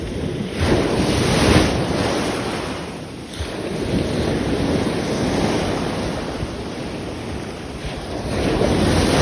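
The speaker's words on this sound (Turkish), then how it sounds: "Gördüğünüz gibi dalga var." Sea waves on a windy day roll in with a broad, loud roar while heavy wind buffets the microphone, surging and easing continuously with no voices.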